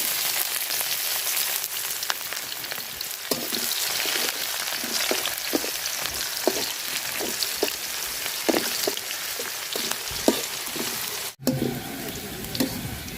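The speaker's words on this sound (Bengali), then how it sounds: "পেঁয়াজ, মরিচ আর রসুন লাল লাল করে ভাজা নিছি।" Onion, chili and garlic frying in a pan, giving a steady, close hiss and crackle that runs throughout with scattered pops and no talking.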